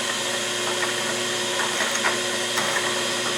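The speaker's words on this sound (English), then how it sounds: "And I'm drilling this in again until I feel it intersect with the other hole." A sensitive drill press bores a hole into a small brass part for a Stuart Progress steam engine. A steady, close motor whine runs throughout, with faint cutting scrapes on top of it.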